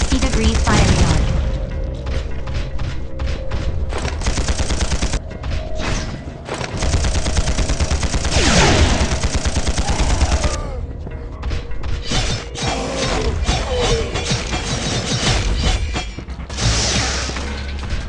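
Weapons fire in the video game Implosion Never Lose Hope, with loud continuous bursts of gunfire, booms and mechanical clanks through most of the stretch and a few brief gaps.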